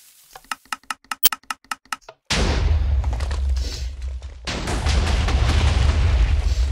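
A TNT cannon built with rapid-firing dispensers in a block-building video game fires about nine quick, evenly spaced shots. A sudden loud, sustained roar of blasts follows, surging louder partway through.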